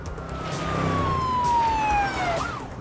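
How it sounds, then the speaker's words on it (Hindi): A single police car siren tone in the video game GTA V glides slowly downward over a low engine rumble, fairly loud and steady, ending with a quick upward chirp. "पुलिस की गाड़ी पीछा कर रही है।"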